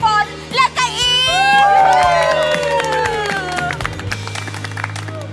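An audience claps and cheers loudly, with excited shouts and whoops rising over sustained applause that continues steadily before tapering slightly near the end.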